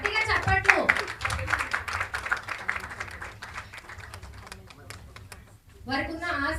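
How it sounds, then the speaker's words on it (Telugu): An audience at a church women's retreat claps with a rapid patter of many hands over a few seconds, a voice speaking over it, then a voice alone near the end. "గట్టిగా చప్పట్లు."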